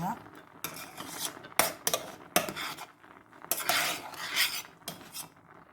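A spoon scoops foam off a pot of yellow lentil curry, giving intermittent scraping and clinking of metal against the pot in short bursts, close and fairly quiet.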